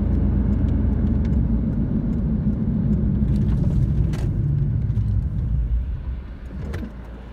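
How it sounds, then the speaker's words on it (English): A car that needs charging pulls over and stops: a steady, close road and engine rumble holds and then eases and drops off toward the end as the vehicle slows. "So I shall stop the car at the next possible, which is here."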